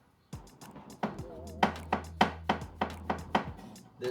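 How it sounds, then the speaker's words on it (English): A knife roughly chops sliced onions on a board in a home kitchen, about ten sharp, evenly spaced chops ringing out close and clear over a low background hum. "now I got these onions sliced up. Go ahead and give them a rough chop."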